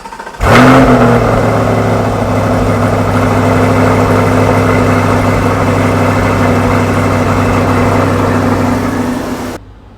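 A 2023 Chevrolet Corvette C8 cranks and catches with a loud burst, then settles into a steady, deep idle that holds evenly for several seconds before cutting off, with no talking.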